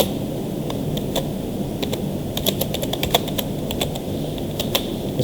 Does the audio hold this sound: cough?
no